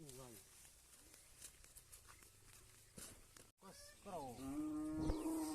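Hungry cattle low loudly and close by, several drawn-out moos rising and falling across the stretch, one long bellow near the end, with someone talking between the calls.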